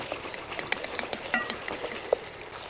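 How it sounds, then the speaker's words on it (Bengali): Chopped potatoes fry in a pan for khichuri, giving a continuous crackling sizzle broken by scattered stirring clicks and scrapes. The sound is close and moderately loud, with no voices. "আলু কুচি দিয়ে দেওয়ার পর আরও কিছুক্ষণ নেড়ে চেড়ে ভালোভাবে ভেজে নেব"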